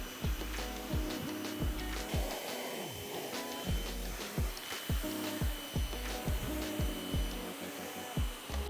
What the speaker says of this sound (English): pressure washer to get most of this off, hopefully